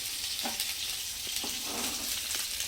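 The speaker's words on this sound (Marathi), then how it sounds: "सध्या आपली मच्छी फ्राय होऊन तयार आहे। फ्राय झालेली आहे।" Bangda mackerel frying in oil in a pan, a steady close hiss of sizzling with a few soft scraping touches of a utensil, no speech.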